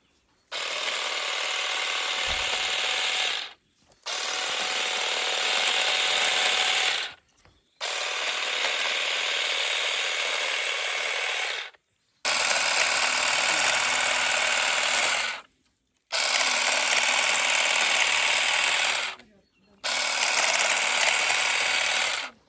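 Procraft hedge trimmer cutting through a lavender bush, five bursts of a few seconds each with short silent gaps between, a steady buzzing whir with rasping cutting noise, close and loud.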